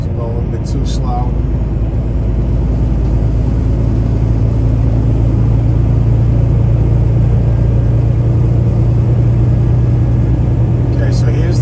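A car climbs a steep road while being given gas, its engine and the road noise forming a loud, steady low rumble heard from inside the cabin, with faint clicks at the start and end.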